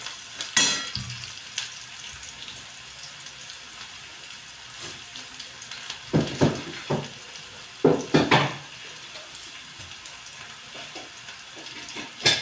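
Onion frying in a pan for zunka, a Maharashtrian gram-flour dish made with hetichi phule (heti flowers), browned to a pinkish colour: a steady low sizzle with intermittent stirring scrapes and clatters, no speech.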